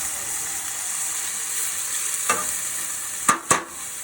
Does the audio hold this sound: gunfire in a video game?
no